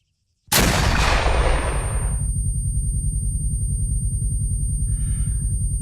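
M3 MAAWS recoilless rifle fired in ArmA 3: one sudden, very loud blast after a silent start, decaying into a long low rumbling roar that carries to the end.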